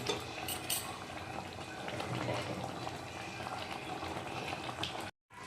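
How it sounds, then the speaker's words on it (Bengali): Paneer curry in a Bengali home kitchen bubbles and simmers after hot water is poured in, a steady close boiling hiss with faint clinks of utensils, breaking off briefly near the end. "ভালো মতন করে কষিয়ে নিলাম গরম জল দিয়ে দিই"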